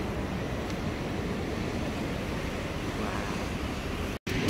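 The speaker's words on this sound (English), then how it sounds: "And the sea pours into those bigger pools down there." Sea waves pouring into rock pools along a rocky shore make a steady, broad wash of surf, loud and continuous with wind noise on the microphone, and no voices.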